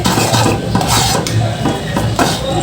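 A spoon stirring hot tomato sauce and spices in a pan while cooking a Korean dish, heard as repeated scraping and rubbing strokes in a steady rhythm, close and fairly loud.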